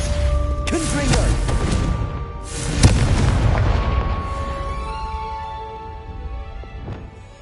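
The Confringo spell in Hogwarts Legacy goes off as a loud booming explosion, with a sharp burst near the middle and a rumble that slowly fades, while game speech is heard over it.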